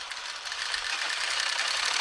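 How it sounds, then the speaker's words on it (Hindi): Sewing machine running steadily while stitching the sleeve of a Patiala suit, a continuous close whirring hum with no pauses and no voices. "दूसरी सिलाई यहाँ से मैं साइड से दूसरी सिलाई देते जाऊंगी"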